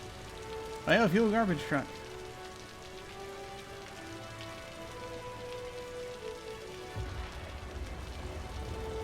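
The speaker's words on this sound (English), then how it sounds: "It's been raining a lot." Steady rain falls on a city in the city-building game Cities: Skylines, an even hiss running throughout, with someone talking briefly near the start.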